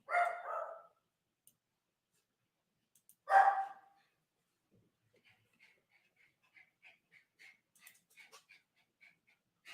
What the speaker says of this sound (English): The dogs can hear somebody out on the golf course and they're upset.